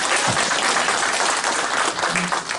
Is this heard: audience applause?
yes